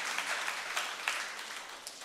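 A church congregation applauds during a sermon, a steady, dense wash of many hands clapping together that continues evenly throughout, with occasional louder individual claps standing out.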